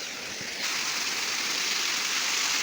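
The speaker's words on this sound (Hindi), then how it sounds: "ये है झरना," Steady broadband rush of a waterfall in a Himachal village, close and continuous, growing slightly fuller partway through with no voices.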